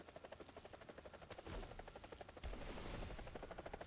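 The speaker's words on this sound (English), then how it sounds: "let's fire a missile" An Apache attack helicopter in War Thunder fires missiles, with a steady rhythmic rotor chop throughout and two loud whooshing launch bursts about a second apart over the thudding blades.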